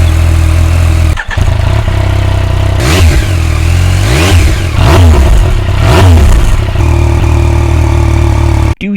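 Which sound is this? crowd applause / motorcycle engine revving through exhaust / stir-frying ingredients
motorcycle engine revving through exhaust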